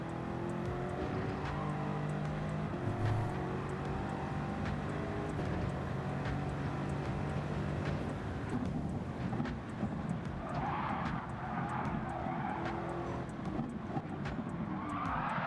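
Race car at the Nordschleife in a racing video game, a Viper on a maxed-out street car setup: a steady engine drone runs throughout with tyre skidding layered in, the squeal growing harsher and more prominent in the latter half.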